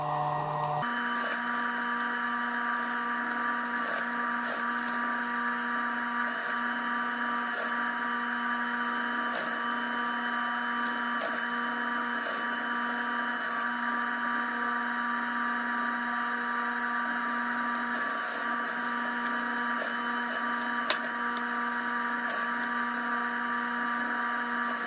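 A sewing machine runs steadily, stitching a seam on a fabric fisherman bucket hat, giving a continuous close mechanical whir with a few small clicks and no talking.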